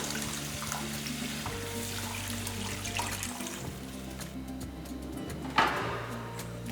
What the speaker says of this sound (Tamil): கொஞ்சம் தேவையான அளவுக்கு தண்ணி ஊற்றிக்கலாம்